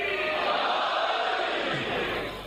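A crowd at a majlis chants a religious slogan together, a dense, loud roar of many voices that holds steady for about two seconds before easing off at the end.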